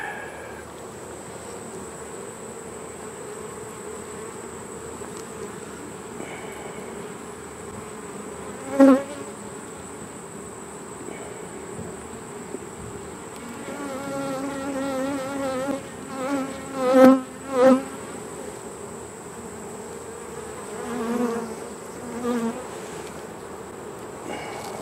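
Honey bees hum in an open hive being readied for winter, a steady close buzz with a few louder passes as individual bees fly near, alone without talk.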